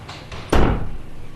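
A door slams shut loudly with a sharp broadband thud, its noise decaying over about a second against a room-tone background, with faint outside noise before it.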